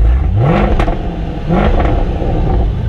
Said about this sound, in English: Might give us some revs.